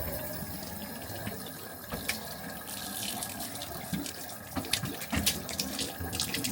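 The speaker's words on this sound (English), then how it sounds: "got more running water." Tap water runs steadily inside an RV, a continuous splashing wash with a few sharper clicks and knocks near the end, close and alone with no talking.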